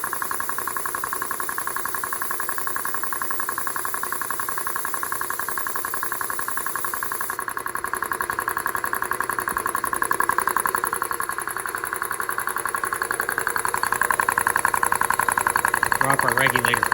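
A vintage air compressor under repair runs steadily at about 40 PSI, a loud continuous mechanical drone with a rapid pulsing chug, and a person talks over it.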